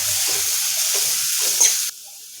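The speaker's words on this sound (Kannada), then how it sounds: "ಈಗ ಇದನ್ನು ಕೂಡ ನಾವು ಎಣ್ಣೆ ಒಳಗೆ ಫ್ರೈ ಮಾಡ್ಕೊಳ್ಳೋಣ" A dry ground pepper spice mixture for beetroot rasam hits hot oil, giving a loud, steady, hissing sizzle close by that cuts off abruptly near the end.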